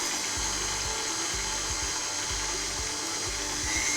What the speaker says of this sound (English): Now we're going to turn our mixer on.